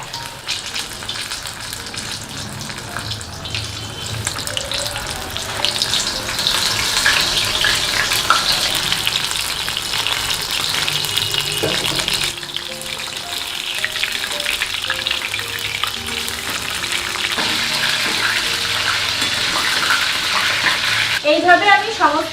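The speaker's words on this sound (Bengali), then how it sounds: "এবার আমি মাছগুলোকে এর মধ্যে ডুবিয়ে তেলের মধ্যে ছেঁকে নেব।" Battered fish pieces fry in hot oil over a low to medium flame, giving a loud, continuous, close-up bubbling sizzle that holds steady throughout.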